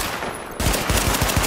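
A quick burst of loud, close gunfire rattles out in The Division video game, with a sharp onset followed by several rapid shots.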